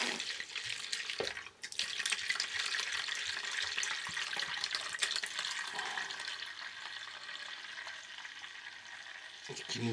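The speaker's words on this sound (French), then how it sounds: "Donc on va verser l'équivalent de 57 centilitres de vin." About 57 centilitres of wine pours steadily into a container for a wild boar dry sausage recipe, a continuous splashing stream lasting several seconds with a brief dip early on.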